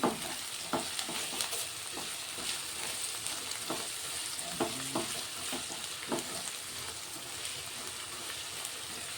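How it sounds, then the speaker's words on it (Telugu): Onions sizzle steadily in a hot pan as salt goes in and a spoon stirs them, with scraping strokes cutting through the constant close frying hiss. "ఉల్లిగడ్డలు అయితే కొంచెం ఫ్రై అయినాయి ఇప్పుడు ఇందులో అయితే ఉప్పు వేసుకుంటాం"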